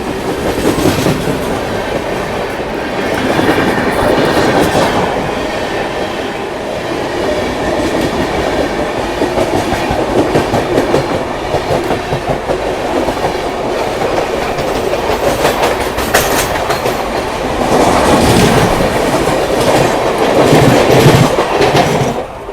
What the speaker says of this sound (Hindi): एज़ यूजुअल एकदम धीरे रफ्तार में हम टूंडला जंक्शन रेलवे स्टेशन को स्किप कर रहे हैं।